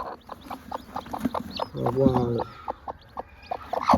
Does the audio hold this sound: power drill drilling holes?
no